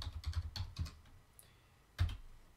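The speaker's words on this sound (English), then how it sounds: "I'm gonna type in YouTube" Fingers type on a computer keyboard in a quick burst of clicking keystrokes, a pause, then a single firm key press, close and fairly crisp over a quiet room with no talking.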